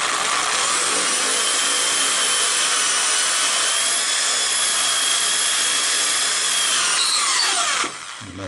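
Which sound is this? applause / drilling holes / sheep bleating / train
drilling holes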